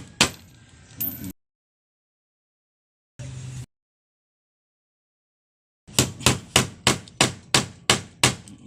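Nails are hammered during a household electrical wiring installation. After brief handling noises and a silent gap comes a run of about eight sharp, evenly spaced hammer blows, close and loud, with no talking.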